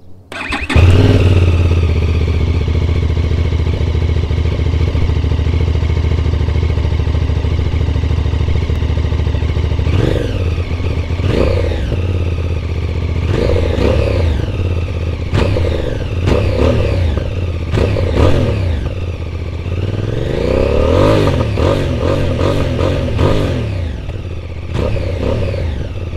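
A 2023 QJMotor SRT 550 adventure tourer motorcycle fires up and settles into a steady close idle, then blips its throttle in several sharp revs, the last ones longer and clustered together.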